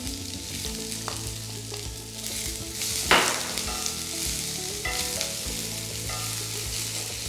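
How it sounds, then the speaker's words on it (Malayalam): Medium-sized chopped onion with green chilli and curry leaves sautéing in a pan for egg kothu parotta, a continuous close sizzle with occasional stirring scrapes and one sharper clatter, no voices. "സവോള നന്നായിട്ടൊന്ന് സോഫ്റ്റ് ആകുന്ന വരെ ഒന്ന് വഴറ്റിയെടുക്കുക"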